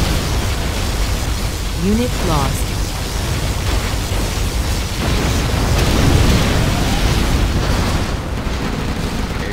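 Heavy, continuous roar of scud storm missile explosions in the strategy game Command & Conquer Generals Zero Hour, a dense rumbling barrage lasting throughout, with a synthesized voice announcement heard over it.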